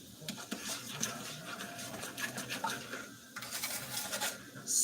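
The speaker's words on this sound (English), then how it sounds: "Scrape the sugar off the sides." A spoon scrapes sugar off the sides of a pot while making candied apples, giving a series of close, quiet scratchy strokes with brief pauses between them.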